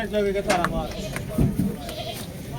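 At a livestock market in Surewala, a goat bleats in short wavering cries a couple of times close by, mixed in among people talking and bargaining.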